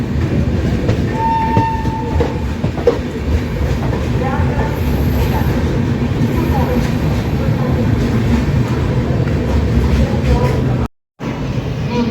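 Indian passenger special train running toward Govindpuri on the New Delhi to Saharsa route, a loud continuous rumble with wheel clatter and a faint horn, steady throughout before a brief cut near the end.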